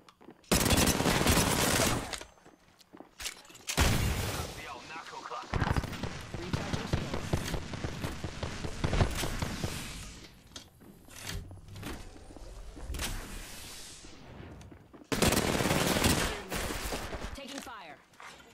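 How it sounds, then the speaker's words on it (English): Heavy automatic gunfire in the video game Apex Legends, loud sustained bursts that start and stop repeatedly, with a long stretch of rapid overlapping shots in the middle. "Taking fire."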